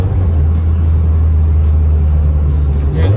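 Steady low engine drone from a BMW E30/E36 with a short throw shifter, running continuously through a downshift with a slight rise in revs near the end, close and fairly loud.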